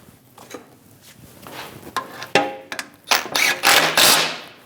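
Mechanic's wrench snugging down four bolts on a power steering pressure line of a 2001-2006 Chevrolet with hydroboost, a series of sharp metallic clicks and clunks of increasing loudness, close up, with no talking.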